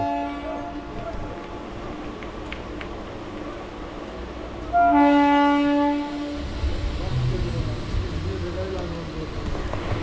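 A Santragachi–Jhargram MEMU electric train halts at Bir Shibpur, where it has no scheduled stop. A low rumble runs throughout, a loud horn blast sounds midway, and quieter voices follow.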